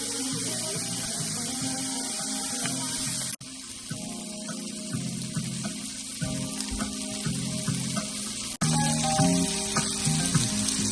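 Seasoned shrimp fry in oil and butter in a cast iron skillet, giving a loud, steady sizzle close up with a bright spitting hiss and an underlying hum, broken by a couple of abrupt cuts.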